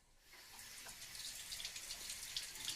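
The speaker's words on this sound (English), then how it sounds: "I'm going to rinse it off really well using a sink." Water runs from a kitchen sink tap while fresh, locally caught slender soft-shell crabs are rinsed, a steady hissing flow with small splashes that grows slightly louder, close and alone.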